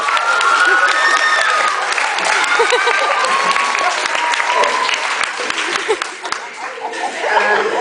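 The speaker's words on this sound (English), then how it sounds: "big hand for Brandon here." A crowd at a stage hypnotist show claps loudly for a volunteer named Brandon, steady applause mixed with cheers and a few chuckles throughout.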